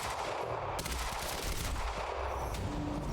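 Sustained gunfire in Quantum Break, dense automatic bursts firing almost without pause across the whole stretch at a steady loud level, with no talking.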